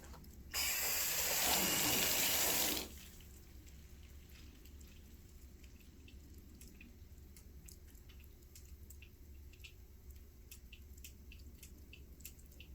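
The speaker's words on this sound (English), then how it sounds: "Okay, I can hear the water running." Water from a tap runs in a short, bright burst of about two seconds, then stops, leaving quiet background hiss with faint drips and clicks.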